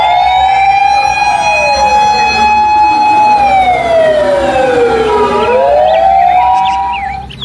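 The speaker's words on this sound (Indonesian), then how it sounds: "Yang ini mobil pemadam kebakaran." Loud electronic wailing siren from a red toy fire truck, sweeping up and down in pitch close to the microphone for the whole stretch before fading at the end.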